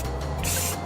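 An aerosol spray paint can hisses in short bursts, a near, bright pressurized spray that cuts off and restarts within a second.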